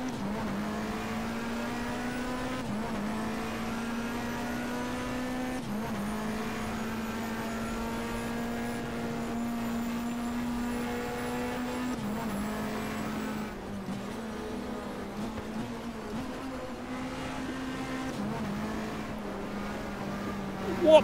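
A Nissan Primera race car drones around the Croft circuit in the BTCC 1997 video game, its engine holding a steady, buzzing pitch with small shifts as it laps, loud and unbroken, with a voice talking over it.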